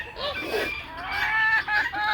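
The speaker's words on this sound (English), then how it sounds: "These are all hens." Hens cluck and murmur close by in a backyard flock gathered around scattered scratch grain, with soft overlapping calls that rise in a few brief bursts.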